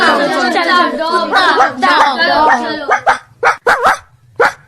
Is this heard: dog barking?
yes